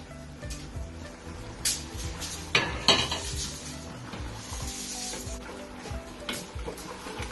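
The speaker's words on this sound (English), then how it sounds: "So I'm going to add the onions." Fried crushed onions are tipped into a cooking pot with clattering metal and utensil scrapes, a couple of sharper clanks, and a soft sizzle underneath, close and fairly quiet.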